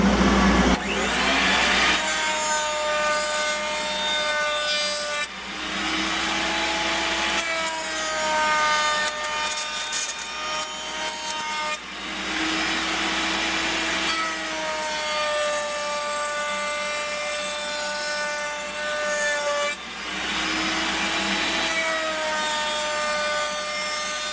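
Wooden Native American flute blank being rounded off after planing square, about 1 1/16 inch thick, a loud continuous whining, rubbing tool sound in long strokes with short breaks between passes.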